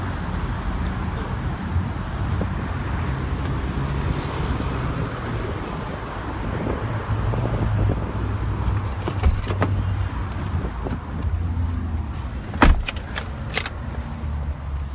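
A Mercedes S550e plug-in hybrid sedan cruises through Hollywood streets, heard from inside as a low, smooth road and engine rumble with faint traffic, occasional clicks and a sharp knock near the end.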